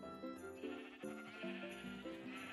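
Sheep in the video game Minecraft bleat repeatedly at a low level, several wavering calls following one after another and partly overlapping, with no speech.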